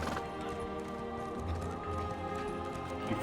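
Steady hoofbeats of a horse in a video game clip-clop at a trotting rhythm, mid-distance, over a constant musical background with no voices.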